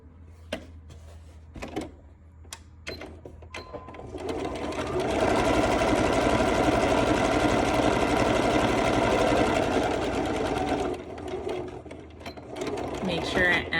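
A sewing machine stitches fabric seams for a face mask, running as a loud, steady whir for about six seconds, framed by short bursts of stitching and handling clicks before and after, with a voice talking at times.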